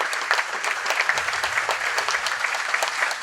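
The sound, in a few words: audience applause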